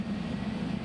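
An airliner climbs into the air just after a long takeoff roll, a steady, droning engine tone with a low hum, brief and continuous with no voices.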